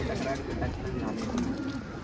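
Green dobaaz pigeons coo softly in a low, repeated murmur, heard under someone speaking nearby.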